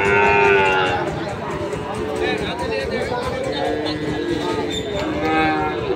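Calves and cattle moo repeatedly over a busy Friday village cattle market hubbub of voices and chatter in Ambari, the calls drawn out and fairly close.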